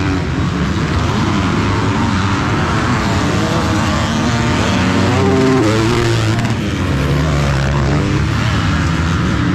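Honda motocross bike racing down the straight at an outdoor track, a loud continuous engine roar that swells and holds as it passes close by, with no talking over it.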